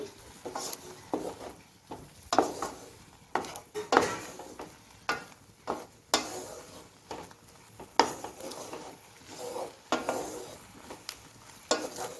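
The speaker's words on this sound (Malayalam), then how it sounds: "ഒന്ന് നന്നായിട്ടൊന്ന് ഇളക്കണം." A spoon stirs carrot pachadi in a pan, making soft rhythmic scrapes about every second along with faint sizzling, close but quiet.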